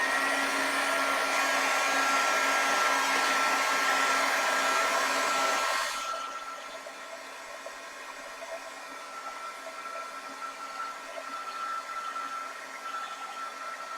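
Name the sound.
hair dryer drying painted wooden gnome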